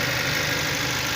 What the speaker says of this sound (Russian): Мотор работает ровно, никаких посторонних шумов.